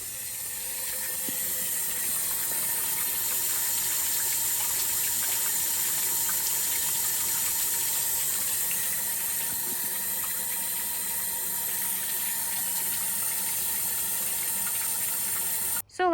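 Dirty brown water flushing steadily out of a 1948 Cadillac's cooling system with the radiator removed, a constant loud rushing splash like a running tap that holds for the whole stretch and cuts off abruptly at the end.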